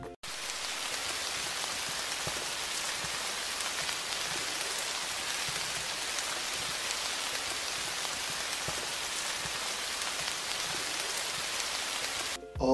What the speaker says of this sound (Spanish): el sonido nos daba un timbre de lluvia